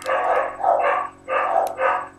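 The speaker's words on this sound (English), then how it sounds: "My dogs are going crazy because the goats." Dogs bark outdoors in four loud, close barks, spaced in two pairs with brief pauses between them.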